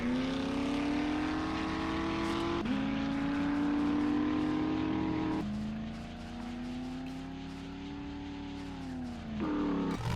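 A supercharged farm truck drives in the video game 7 Days to Die, its engine droning loud and steady with rising pitch as it speeds up and shifts gears, the revs dropping and then climbing again.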